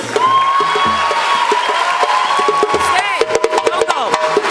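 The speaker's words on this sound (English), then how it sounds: "give them a warm hand of applause to our beautiful models" Audience applause for models at a Somali fashion show, a steady roar of clapping and cheering over background music, turning into sharper, scattered claps near the end.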